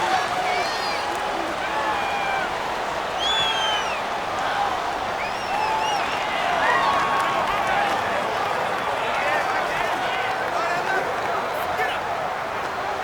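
Stadium crowd noise during a Madden NFL 19 game between the Dallas Cowboys and Tennessee Titans: a steady, loud roar of a home crowd with whistle-like calls, under commentary.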